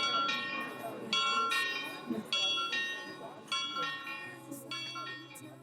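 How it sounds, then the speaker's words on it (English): Church bells of Nuremberg ring out in overlapping, resonant peals, each strike fading into the next, with faint voices and street noise beneath. "right now you'll be hearing the bells"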